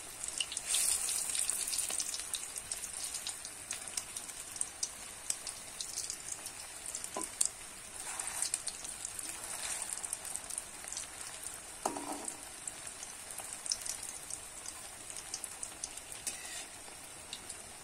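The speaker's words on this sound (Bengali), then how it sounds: "দেখো কত সুন্দর কিন্তু ভাজা হচ্ছে।" Pea koftas fry in hot oil in a pan over a lowered flame, giving a steady, even sizzle with light crackles and occasional soft stirring knocks.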